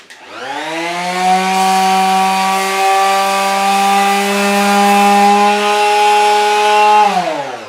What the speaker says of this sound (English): Alright, so I'll use a sander on that guy.